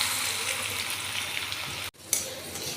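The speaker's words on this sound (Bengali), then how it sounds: "তেলটা আমার গরম হয়ে গেছে, আমি আলুটা ভেজে নেব" Potato pieces fry in hot oil in a home kitchen, giving a steady, fairly loud sizzle with a brief break partway through as the food is stirred or moved.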